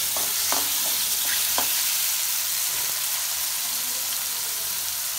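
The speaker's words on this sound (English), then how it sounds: "tomato puree very properly and saute the mushroom like this" Mushrooms sauté with tomato puree in a pan, giving a constant hissing sizzle up close with a few soft taps and scrapes of a spoon stirring early on, no voices.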